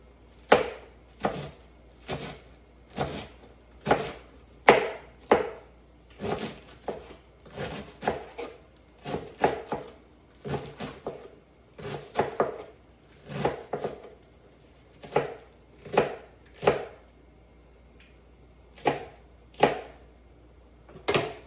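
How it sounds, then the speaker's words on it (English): Lettuce being sliced with a knife on a cutting board makes a string of crisp, close chopping thuds at an uneven pace, grouped in short bursts with brief pauses between. "Does not have to be any perfection to cutting your lettuce. Just slice it however you want to slice it."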